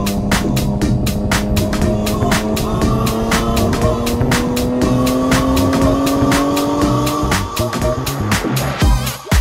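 A Mitsubishi Evo 10 race car drives a track day at Grobnik, its engine note climbing steadily under acceleration before a gear change near the end, loud and close from onboard.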